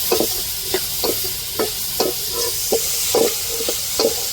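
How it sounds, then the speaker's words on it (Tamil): Flour dough being stirred with jaggery syrup in a pan for a Diwali sweet, making a steady series of regular scraping, sticky stirring strokes with a faint sizzle underneath, close and alone. "நம்ம கொஞ்சம் கொஞ்சமாக அப்படியே ஊற்றி அந்த மாவில் விரவணும் வதக்கிக்கிடுவோம்"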